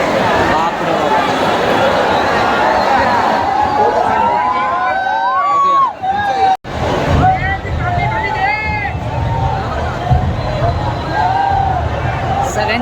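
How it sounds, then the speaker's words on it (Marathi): A large crowd at a Ganpati arrival procession in Chinchpokli, Mumbai, fills the air with continuous dense babble and shouting, while a wavering siren-like tone rises and falls above the throng. "इकडे ही गर्दी बघा"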